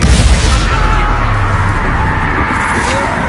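Loud burst of spell explosions and crashing impacts in the Hogwarts Legacy video game, starting with a heavy boom and rolling into sustained blasting debris, with no speech.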